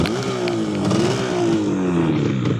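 A 1983 Yamaha RD250LC two-stroke motorcycle revving while warm, a steady loud engine note rising and easing through a couple of throttle blips, with a slight rattle from a loose kickstart.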